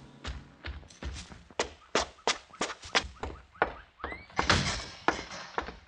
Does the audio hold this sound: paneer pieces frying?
no